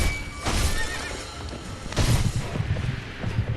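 A horse from the video game Sekiro: Shadows Die Twice, ridden by Gyoubu Oniwa, lets out two loud shrill whinnies about a second and a half apart, with a clatter of hooves and low thumping underneath.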